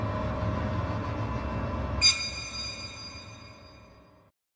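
A train rolls past a station, with a steady low rumble of wheels on rail, a sharp metallic squeal or clank midway, and the noise fading away toward the end.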